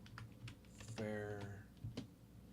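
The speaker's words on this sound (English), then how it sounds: "Let me type it in" Computer keyboard typing in a room, a few scattered quiet keystrokes partly masked by a humming background and a burst of voice in the middle.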